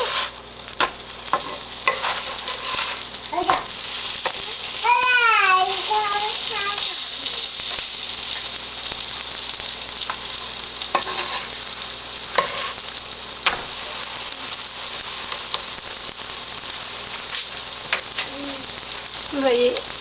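Msemen, a Moroccan layered flatbread, fries in a hot pan with a continuous crackling sizzle and scattered pops, while a voice briefly speaks near the middle.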